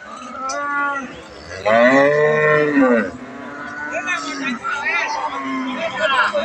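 A Holstein Friesian cow at a cattle market moos loudly several times in long, drawn-out calls, close by, with some background voices between the lowing.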